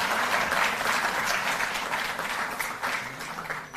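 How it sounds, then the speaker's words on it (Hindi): Applause from an audience at a Delhi government ceremony honouring national athletes, a dense steady wash of many hands clapping that holds loud throughout and eases slightly toward the end. "जोरदार तालियां बजें।"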